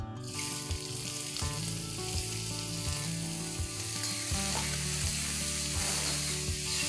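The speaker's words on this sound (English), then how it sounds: "I'm going to saute 3 finely chopped onions" Three finely chopped onions sizzle in 3 to 4 tablespoons of hot oil, giving a loud, continuous frying hiss broken by regular soft knocks of stirring.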